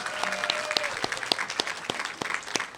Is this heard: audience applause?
yes